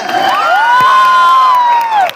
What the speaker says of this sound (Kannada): 25ಗೆ ಒಂದ್ಸರಿ ಜೋರ ಚಪ್ಪಾಳೆ.